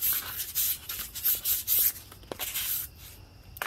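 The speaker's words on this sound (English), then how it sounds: "Now I'm just going to clean it and just wiping it down now." A cloth rubs briskly over an oily motorcycle piston from a Kawasaki KE100 top end, greasy with WD-40, producing close, dry swishing strokes in uneven bursts that taper off, with no talking.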